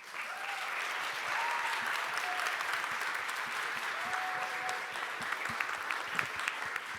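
Steady audience applause fills a conference stage at a Polish economic forum start-up pitch event, sustained and fairly dense from start to finish, as a host welcomes the organiser on stage.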